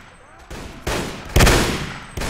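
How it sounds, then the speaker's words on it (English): Gunfire in Mount & Blade: Warband with the Red Wars mod, with loud, sharp shots and volleys arriving in several separate bursts across a busy battle, near and forceful. "they're starting to shoot at me"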